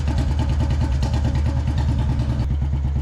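A Royal Enfield CI Bullet single-cylinder motorcycle engine idles close by with a steady, even thumping rhythm, loud and continuous throughout.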